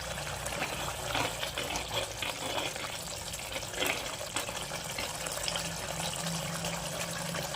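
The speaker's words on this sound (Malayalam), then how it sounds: "നമുക്കിതിലേക്ക് അരമുറി തേങ്ങയുടെ 2ാം പാൽ ഒഴിച്ചു കൊടുക്കാം." Half a coconut's worth of second-press coconut milk, about 1.5 cups, pours into a Kerala-style prawn curry in a steady, close liquid gush with faint splashing and no voices.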